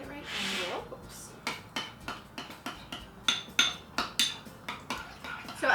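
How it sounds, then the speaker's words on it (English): Blueberries being stirred in a bowl while making frozen yogurt dog treats, heard as a steady series of close, sharp clinks and taps from a utensil against the bowl. "And now we're going to mix the blueberries."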